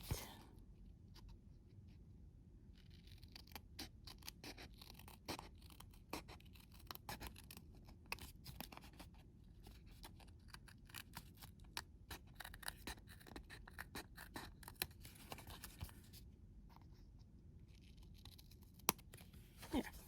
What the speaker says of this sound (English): I'm going to come in with a smaller scissor and see if I can do some detail cutting here.